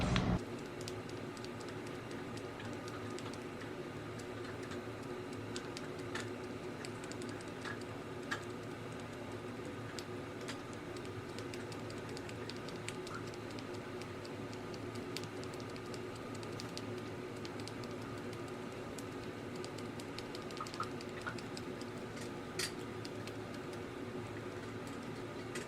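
Pen tip tapping through paper over fabric to mark an embroidery outline on pants. Soft, quiet, irregular ticking taps continue throughout with no speech.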